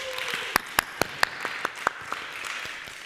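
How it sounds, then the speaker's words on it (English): Sparse applause at a university residency symposium: a handful of distinct, fairly loud claps over a soft crowd patter that thins out quickly. "So give them a round of applause."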